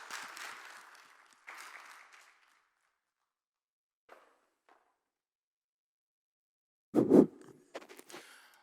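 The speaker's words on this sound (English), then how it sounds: "Ladies and gentlemen, a big round of applause." A conference audience at the IFAH event in Dubai gives brief applause in two short bursts that fade into silence, followed by a few isolated knocks and a sharp close thump.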